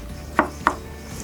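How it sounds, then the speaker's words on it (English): Kitchen knife cutting potatoes into centimetre slices for French fries on a board, two crisp chopping knocks in quick succession. "you're just going to slice it up into roughly evenly sized slices"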